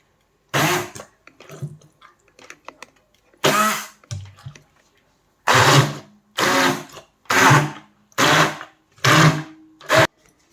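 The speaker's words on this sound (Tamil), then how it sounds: "இப்போ வந்து நான் இந்த மஷினில் வந்து நான் இதை வந்து அரைக்க போகிறேன்" An electric kitchen grinder blending cooled chicken broth ingredients, running in a series of short, loud whirring bursts of about a second each, separated by pauses, with faint rattling between pulses.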